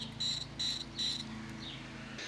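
Rattling chamber of a Livingston Lures Viper 6 glide bait, made to mimic perch baitfish noise, gives three short bursts of high clicking chirps in a steady rhythm over a faint background hum.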